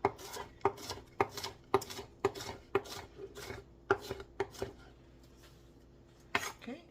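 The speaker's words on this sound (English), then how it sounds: "So cut that nice and small, and then just cut it into small pieces." Knife chopping napa cabbage into small pieces on a cutting board, a quick run of sharp, close taps in an uneven rhythm that pauses briefly before one last chop.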